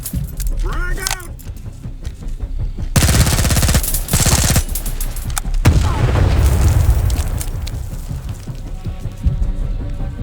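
Combat in STALKER 2: a heavy grenade blast and bursts of automatic gunfire, loud and close, with rumbling aftermath and scattered shots.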